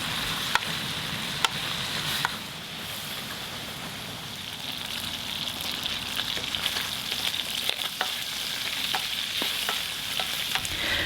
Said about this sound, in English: as you render out the fat, make sure you keep stirring it so that you get even cooking